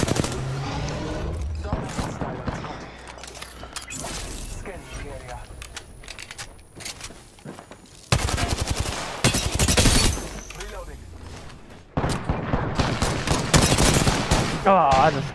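Video game gunfire rattles in repeated automatic bursts, loud and close, breaking off and resuming, with a voice talking in between.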